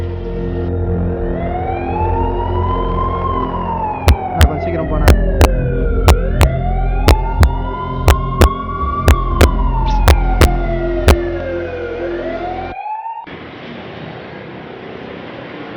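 A wailing emergency siren rises and falls in long sweeps with a sharp rhythmic clicking over it, then cuts to a hiss; a voice speaks briefly.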